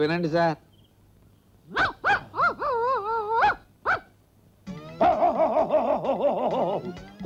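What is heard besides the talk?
recorded dogs barking played by neighbours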